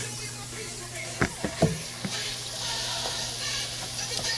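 Shrimp and scallops sizzle in a pan as a steady, fairly loud frying hiss, with a few light clicks of stirring or utensil contact near the start and no voice over it.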